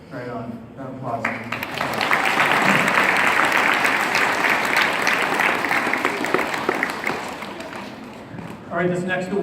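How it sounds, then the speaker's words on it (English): A crowd claps for students at an awards ceremony, with speech before the applause swells into loud, continuous clapping that fades as a voice resumes. "Round of applause."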